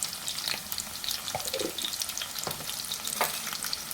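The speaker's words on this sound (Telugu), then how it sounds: "ఈ ఆనియన్స్ పచ్చిమిర్చి మంచిగా బ్రౌన్ కలర్లో మగ్గే వరకు ఉంచుకోవాలి" Onions and green chillies frying with salt in a pan, a steady crackling sizzle with scattered pops and a few scraping stirs.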